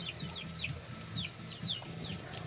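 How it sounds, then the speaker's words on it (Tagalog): Baby chicks peep in a quick, repeated series of faint, high, downward-sliding chirps over a soft, low background murmur. "binugaw ko muna yung mga sisiw guys kasi storbo sila"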